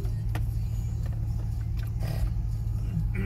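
Street traffic in Las Vegas heard from inside a truck, a steady low engine and road rumble with faint passing noises and small cabin knocks, continuous and muffled.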